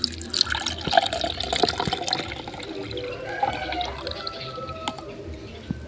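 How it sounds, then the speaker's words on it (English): Water drains out of a container where vegetable seeds have soaked overnight, a close, steady trickle and splash with scattered drips running throughout. "Now I'm going to drain out."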